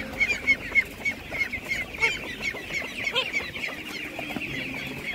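Chickens cluck busily at an outdoor animal market in Ivano-Frankivsk, with overlapping repeated calls and honking geese mixed into a crowded, continuous clamour close by.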